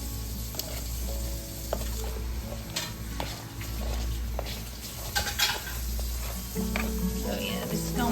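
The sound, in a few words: stirring butter toffee coated oyster crackers with a spoon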